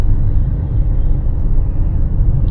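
Steady, loud low rumble of a manual car's engine and road noise as it speeds up in traffic, a continuous close drone without distinct gear changes, no talking.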